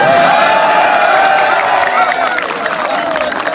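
Crowd at a political rally claps and cheers loudly, with whoops and raised voices riding over a dense, unbroken bed of applause that eases only slightly toward the end.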